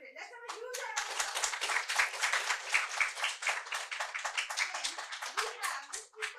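A corporate panel audience breaks into a round of applause, lively dense clapping that swells quickly and holds steady at a moderate distance, with no voices over it.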